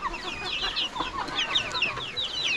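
Backyard chickens kept at a Thai home cluck and squawk in a busy, overlapping chorus of short calls, fairly close and continuous throughout.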